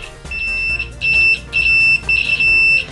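An Extech DM220 mini multimeter's continuity beeper sounds in four loud, shrill electronic beeps of uneven length, each a steady piercing tone with short gaps between, with no talking.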